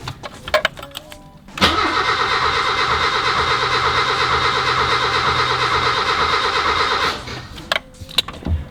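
Mazda 323 GT engine starting after a brake overhaul, a sudden loud crank and catch that settles into a steady, close idle for several seconds before cutting off, with quieter sounds on either side.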